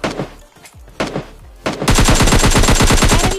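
Rapid automatic gunfire from the mobile battle royale game PUBG Mobile Lite, loud and continuous after a few scattered shots and game noises at the start.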